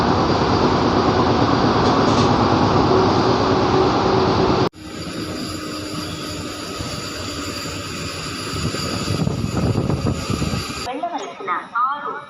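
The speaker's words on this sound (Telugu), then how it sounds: "మంచిర్యాల నుంచి బయలుదేరింది మన ట్రైన్" A passenger train leaves Mancherial towards Ravindrakhani, its loud, steady rumble filling the cabin, then a sharp cut to a quieter interior with rolling wheel noise and faint voices.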